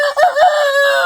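A young rooster gives a short, thin, wavering crow, close and loud, cracking unevenly rather than a full confident call.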